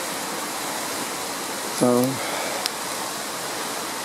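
Goose Creek in full flow after heavy rain, a constant broadband rush of water heard from nearby, with a brief spoken word and a short tonal sound cutting in midway.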